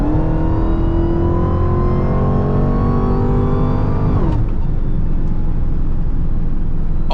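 A Dodge Charger Hellcat pulls hard with its engine climbing in pitch and a rising supercharger whine layered on top, loud and close from inside the cabin, then it drops off abruptly into a lower steady drone.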